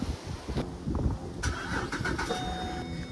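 A Holden Commodore fitted with a Greddy vacuum gauge cranking and catching, a short starter whir followed by the engine firing and settling into a steady mid-pitched idle, heard close by.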